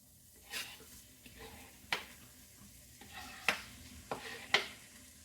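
Leeks, onion and garlic frying in oil while being stirred, a faint low sizzle punctuated by several sharp spoon scrapes and clinks against the pan at irregular intervals.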